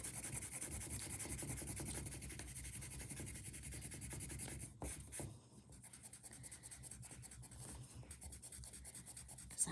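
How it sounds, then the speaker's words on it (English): Written math being wiped from a board with an eraser: soft, quiet, continuous rubbing strokes that pause briefly midway, then resume in short scrubbing passes. "Let me erase this so I don't confuse anybody."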